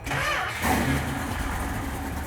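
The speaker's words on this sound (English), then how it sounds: "So let's just try cranking it and seeing if it starts with no gas at all." A carbureted Hemi V8 car engine cranks over without gas, a steady, loud, close mechanical churning that holds on without catching into a clear start.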